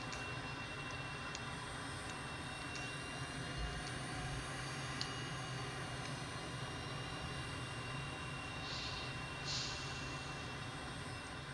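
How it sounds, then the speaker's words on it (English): An M-346 jet taxis in Microsoft Flight Simulator with a steady, continuous engine whine and rumble that holds an even level throughout, alone and without talk. "Now let's get started taxiing."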